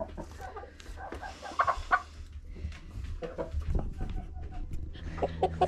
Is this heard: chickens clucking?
yes